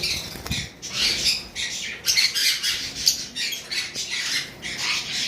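Caged pet birds in a bird shop squawk and chirp in bursts, a busy, fairly close chorus of repeated harsh calls with short gaps between them.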